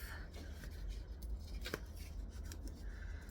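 Scissors snip off a loose fabric tail on a sewn backpack, a few quiet close-up cuts with soft rubbing of cloth between them in a hushed room.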